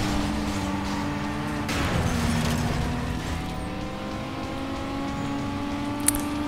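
An Aston Martin in Need for Speed Most Wanted (2005) holds a steady engine drone with gear-shift pitch changes, steady and fairly loud. Other race-car noise plays under it and there is a brief click near the end.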